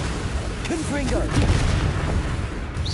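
The Confringo explosive spell goes off in the Hogwarts Legacy video game as a loud, rumbling burst of booms and crackles, with a voice shouting over the blast.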